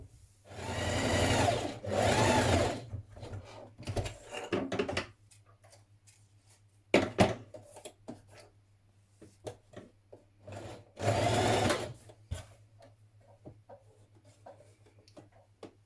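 A sewing machine stitches and back tacks a dress side seam, with bursts of loud rapid whirring separated by pauses filled with soft handling and fabric rustle.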